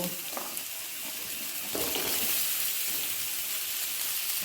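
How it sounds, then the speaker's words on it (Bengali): Potatoes fry in mustard oil over a low flame, giving off a dense, steady sizzling hiss close by that swells a little louder partway through, with a few faint clinks and no talking. "আরও কিছুটা সর্ষের তেল দিয়ে আলুগুলোকে ভাজতে ভাজতে লো ফ্লেমে সেদ্ধ করে নেব"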